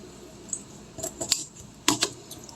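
Scissors cutting and trimming stacked material, a handful of crisp close snips in two short clusters against a quiet room.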